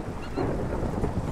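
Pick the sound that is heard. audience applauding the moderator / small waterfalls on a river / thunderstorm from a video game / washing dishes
thunderstorm from a video game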